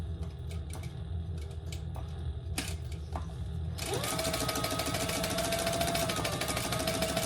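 A sewing machine runs a steady, fast stitch on an adjustable dog collar, starting partway through after some quiet handling noise and then running continuously and close up to the end.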